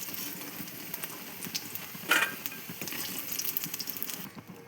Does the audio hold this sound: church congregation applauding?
no